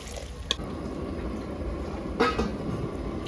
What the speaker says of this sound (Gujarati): હવે આપણે પાણી નાખી દેવાનું છે તો પાણી નાખી દઈએ